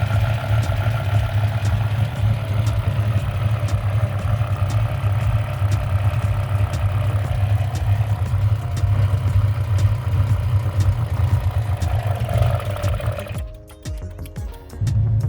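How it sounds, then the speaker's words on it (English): A BMW M5 with a V10 engine idling with a horrendous noise from the engine bay, a loud steady droning rumble with a rough mechanical edge, holding evenly before a brief dip and a clattery change near the end. "even with the horrendous noise coming from the engine bay"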